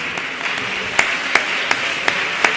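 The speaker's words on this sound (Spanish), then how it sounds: "un aplauso" Audience applause at a talk on attachment and secure bonds, a short burst of steady clapping from a crowd with a few sharper, louder claps standing out at regular intervals.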